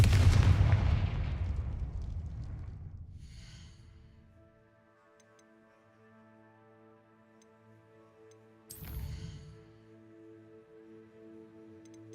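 Spell blasts from the video game Hogwarts Legacy: a loud booming blast that fades over several seconds, then a second sharp impact, with sustained tonal game music between them.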